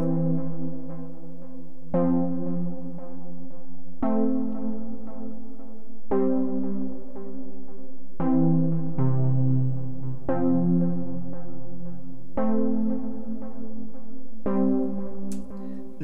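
A chord progression plays from music production software as a sequence of sustained synthetic note clusters, each struck about every two seconds and left ringing cleanly with no voices present.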